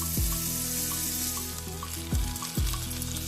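Butter and poblano chile cream mixture sizzle in a frying pan, a steady hiss with a few soft clinks of utensil against the pan, close and fairly loud with no talking.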